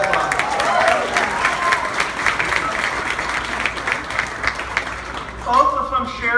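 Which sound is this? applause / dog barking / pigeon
applause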